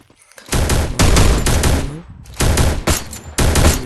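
Loud, sustained bursts of automatic gunfire in the video game Free Fire, with long rapid volleys broken by brief pauses, close and dominating the mix.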